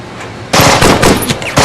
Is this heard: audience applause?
no